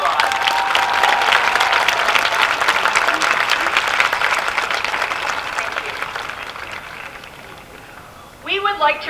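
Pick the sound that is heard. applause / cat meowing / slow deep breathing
applause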